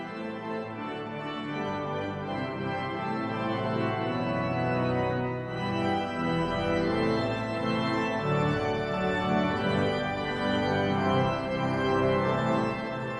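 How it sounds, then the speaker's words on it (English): Sustained organ music with rich held chords and a moving melody, playing steadily on its own at moderate volume. "There'll then be some original organ music that I've composed"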